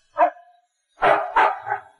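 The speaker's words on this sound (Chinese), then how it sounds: "狗狗一边狂吠，一边在院子里来回走着" A dog barks loudly while pacing in a yard: one short bark with a brief whining tail, a pause, then a quick run of three close, sharp barks.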